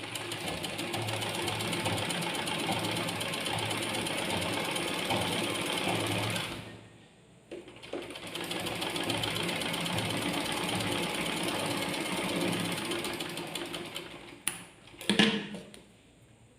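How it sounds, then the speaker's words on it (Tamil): Sewing machine stitching a cross tuck in fabric, a fast, even mechanical whir running close and loud, stopping briefly partway, then resuming before a final clatter as it halts. "இப்படியே வந்து நம்ம ஃபுல்லாக தைச்சிக்கலாம்."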